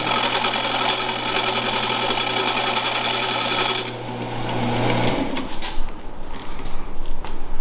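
A lathe tool shaves a walnut blank during woodturning, giving a loud continuous whirring drone that cuts off partway. Rougher irregular scraping follows as the cut changes.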